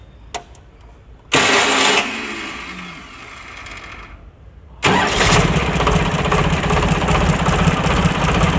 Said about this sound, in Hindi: अब जो ट्रैक्टर को अभी स्टार्ट करके दिखाएंगे